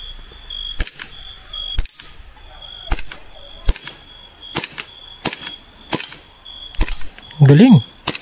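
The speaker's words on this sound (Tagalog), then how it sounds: "yung target shooting na gamit ang airsoft gun for 150 pesos lamang" Airsoft gun fired at targets outdoors, about ten sharp snapping shots at irregular intervals close by, with faint insect or bird chirps between shots and a brief vocal sound near the end.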